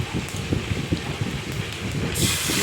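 Pomfret fish dropped into plenty of hot oil, crackling and popping loudly up close, the sizzle swelling into a brighter, steady hiss toward the end.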